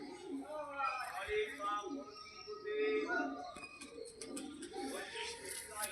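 Madrasi pigeons coo softly in low, rolling murmurs close by, mixed with faint chirps while a person talks over them.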